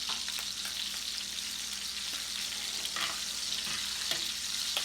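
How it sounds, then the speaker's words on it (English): Italian sausage frying in a pan, a steady, close hiss and sizzle with a few faint stirring clicks, no talking. "So I'm now finishing up the last set of the sausage here in the pan."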